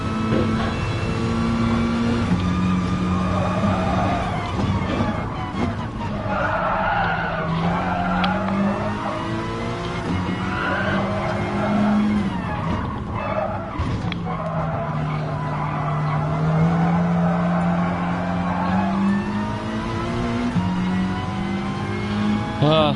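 Race car in the Gran Turismo Sport video game, its engine revving continuously and loudly through a full lap, with tire skids and squeals as the pitch rises and falls through gear changes and corners.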